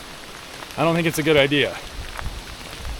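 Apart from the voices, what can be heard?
rain falling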